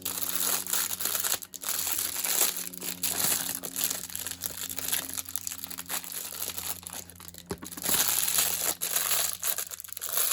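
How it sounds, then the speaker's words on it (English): A small roll of tape is handled up close, with continuous crinkling, crackling rustle and scattered sharp clicks and taps running throughout. "Now I'm just going to reach back and get my another little roll of small tape"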